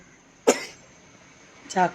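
A child coughs twice, a sharp cough followed by a second, rougher one after a short pause, close and fairly loud.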